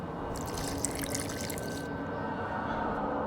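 Water trickles and splashes steadily for about two seconds during alchemy in The Witcher 2, then stops, leaving a steady bed of game ambience and music underneath.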